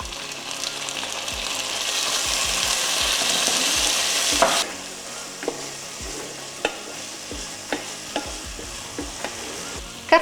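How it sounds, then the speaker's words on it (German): Tomato sizzles in a hot pot with onion and garlic, a bright crackling hiss that eases after a few seconds, followed by scattered utensil clinks and stirring knocks. "Dann die Tomate anbraten."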